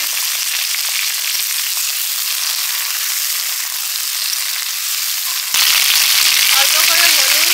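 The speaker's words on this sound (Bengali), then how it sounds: "সবার শেষে চিংড়ি মাছটা ভেজে নেবো" Shrimp fry in hot oil in a pan, a loud, steady, close hiss and crackle that surges even stronger partway through as more sizzling kicks in.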